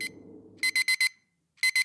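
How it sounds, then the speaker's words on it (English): Alarm clock blaring in short repeated electronic beeps, a burst of four close tones, a pause, then three more, loud and shrill over a faint low murmur at the start. "My alarm woke me up with the same blaring sound that I'd come to hate."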